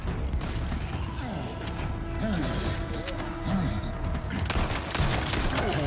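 A dense, chaotic volley of gunfire and impacts fills a boss fight in the video game Resident Evil 4 Remake, running continuously under music and game effects with no clear gaps.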